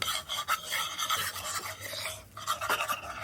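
Bean stew with paprika and smoked pork hock stirred constantly in a hot pan over a bush campfire, a close, steady scraping and rubbing sound with brief pauses and no talking.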